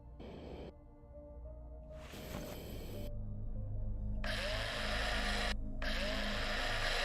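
A drill in the space survival game Breathedge runs in a low droning hum with bursts of high grinding whine that start and stop, alone and fairly quiet.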